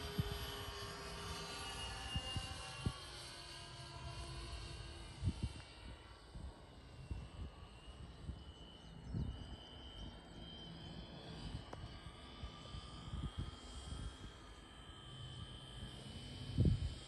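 An electric radio-controlled E-2C Hawkeye model airplane with a 71-inch wingspan flies an approach, its motor and propellers producing a faint, steady whine and hum that wavers over the open field, with occasional handling bumps.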